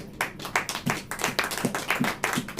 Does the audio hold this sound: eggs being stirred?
no